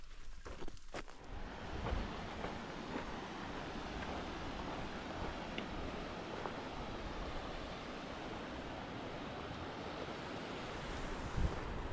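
Boulder Creek rushes steadily downhill beside a shaded trail in Idaho, a dense continuous roar of water close by with some wind buffeting the microphone and a few brief knocks near the start.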